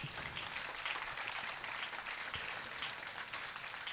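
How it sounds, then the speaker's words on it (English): A small audience at a socially distant magic show aboard a cruise ship claps for a volunteer, with faint, dense and even applause sustained throughout the short stretch without voices. "Give her a round of applause"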